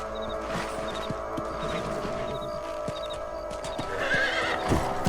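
A horse in the Red Dead Redemption video game whinnies clearly over steady clip-clopping hooves and a continuous game backdrop, the neigh rising loudly near the end.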